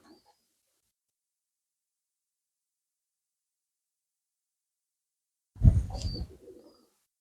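A wood pigeon gives a short, close coo near the end, a brief low burst after long silence, with a faint call at the very start.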